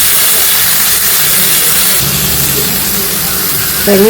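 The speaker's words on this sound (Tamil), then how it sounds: "இந்த குழம்புக்கு தேவையான அளவுக்கு கல் உப்பையும் போட்டு வதக்கினோம்னாக்கா வெங்காயம் கொஞ்சம் சீக்கிரமாகவே வதங்கிடும்." Onions sautéing with rock salt in a pan for a tamarind kuzhambu with broad beans and drumstick: a steady, loud hiss of frying fills the whole stretch, with a brief tonal rattle near the end.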